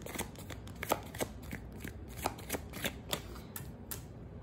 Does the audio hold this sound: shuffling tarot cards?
yes